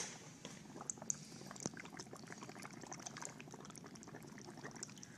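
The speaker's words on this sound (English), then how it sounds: "All we can afford is a straw, is a coffee stirrer really, and we put bubbles in it." Air blown through a coffee stirrer straw bubbles into a watery paper suspension, a faint continuous gurgling burble with small pops, heard alone.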